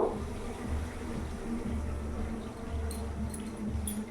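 Water runs steadily from a tap as a container that held coriander leaf paste is rinsed and the water is added to a spiced chicken masala, a soft continuous flow with faint clinks near the end.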